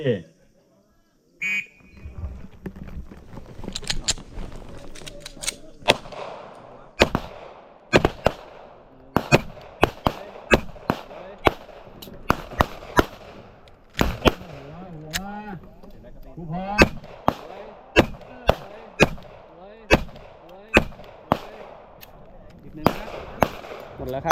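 Handgun shots fired at a 5-metre pistol range, a long series of loud sharp cracks, some in quick succession and others spaced irregularly, with people talking between shots.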